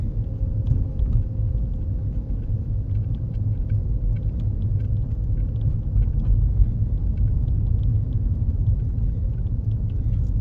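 Low, steady road rumble and engine hum from inside a 2016 Ford Fusion being driven on a city street, a smooth continuous drone with no talking.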